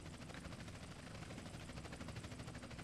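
A police helicopter in GTA San Andreas whirs with a steady, rapid rotor thump and broadband engine roar, constant and fairly close throughout, with no talk over it.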